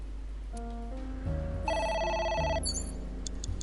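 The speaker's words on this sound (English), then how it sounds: "A phone." Telephone ringing in the video game AI: The Somnium Files: a synthetic electronic ringtone of stepped tonal bursts that builds into a bright, sustained trill, then breaks into short clipped chimes, fairly quiet with no talk.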